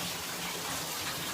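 Water running steadily from a tap as a fixture fills up, a continuous broad rushing hiss with no talk, heard close and fairly loud throughout.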